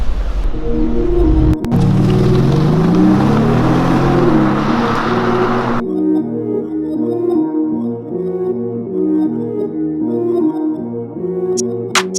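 Mercedes E500 Cabriolet V8 AMG on the move through city streets, the engine note rising and falling under road and wind rush, then giving way to loud rhythmic music playing through the car.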